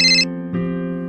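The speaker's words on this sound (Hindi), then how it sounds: "उसी वक्त मेरा मोबाइल बज उठा।" A mobile phone ringtone plays loud and alone: a bright high melodic phrase, a brief pause, then a lower sustained tone.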